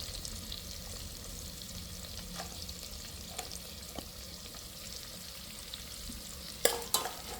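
Cashews and onions fry in oil with a soft, steady sizzle at low level, broken by a few light stirring clicks and a pair of sharper spoon taps near the end.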